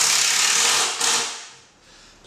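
A cordless drill gun with a special bit drives screws into a plywood aquarium stand, giving a loud, steady high whirring burst that cuts briefly near the middle, fades, then starts again at the end, close up with no talk.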